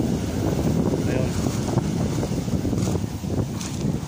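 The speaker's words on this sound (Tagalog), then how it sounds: "Medyo malakas ang hangin" Strong wind blows by the seaside in Barangay Malabrigo, Lobo, Batangas, Philippines, buffeting the microphone in a loud, continuous roar with gusty swells.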